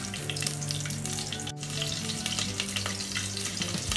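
Green chillies fry in a pressure cooker for chicken biryani, a dense, loud, close sizzle running nearly unbroken, with a brief drop partway through.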